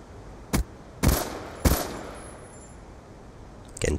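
Sharp single shots from a QBB light machine gun in Black Ops 2, fired in hardcore mode: three or four loud, spaced cracks with short echoing tails over a low background hum.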